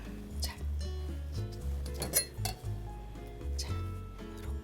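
Dishes and utensils clinking while squid sundae (Korean stuffed squid) is plated in a cooking class: several sharp, close ceramic and metal taps and clinks scattered over a few seconds, with no talking.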